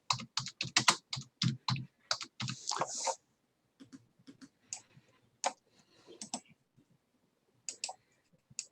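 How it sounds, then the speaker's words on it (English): Fingers tap a computer keyboard in quick bursts of clicks, close and crisp, with short pauses between runs of keystrokes and no talking. "I'm just typing this in"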